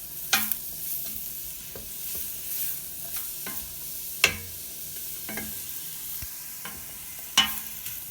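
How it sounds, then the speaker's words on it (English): Onions sauté in a pot on a stovetop with a low, steady sizzle, broken by repeated sharp scraping and tapping stirs from a utensil against the pot at irregular intervals. "you need to saute your onions a little bit before you put your squash and your broth in there to cook"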